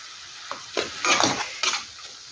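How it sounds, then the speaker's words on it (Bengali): Tomato and green chili paste frying in a pan for paneer tadka dal, a brief wet sizzle with a few scrapes of stirring, close and moderately loud with no talk. "এখন দেবো টমেটো আর কাঁচা লঙ্কা বাটা, মিক্সির মধ্যে বেটে নিয়েছি"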